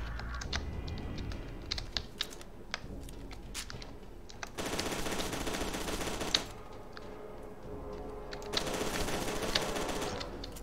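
A gun in the shooter video game FEAR 2 fires in rapid automatic bursts, loud and close, with dense crackling volleys separated by short pauses and quieter stretches.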